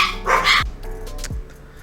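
Dogs bark at home, a few sharp close barks and yips in quick succession followed by a quieter whimper and a further bark.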